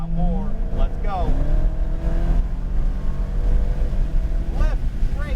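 Dodge Hellcat engine accelerating on a track, a steady loud roar with rising pitch sweeps as the car gains speed, an instructor talking over it throughout.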